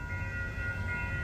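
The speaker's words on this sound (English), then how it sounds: "Just saw one train come into the station here," Light rail train at an outdoor station in Santa Monica, a steady low rumble with a faint sustained tonal whine, moderately loud and continuous over about a second, with no voices.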